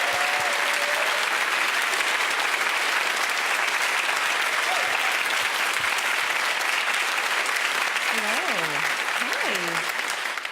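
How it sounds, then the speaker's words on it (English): Sustained applause from a stand-up comedy audience fills the whole stretch, steady and loud, with a few voices calling out briefly near the end. "Please give a big round of applause for Ria Lina."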